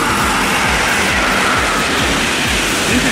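An intercity passenger train rolls along the rails with a steady loud rumble and a repeating low rhythmic thump of wheels over track joints, close by and continuous.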